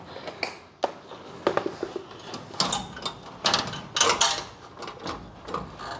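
Bolts are being removed from a 1950 Chevy pickup during an S10 frame swap on the running boards and splash aprons, giving close metallic clinks, taps and scraping clatters in irregular bursts with no talk.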